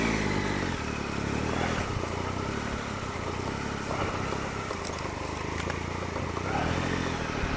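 A motorcycle on street road tyres rides along a dirt track, its mid-pitched engine droning steadily and close throughout, with slight rises in revs and no talking.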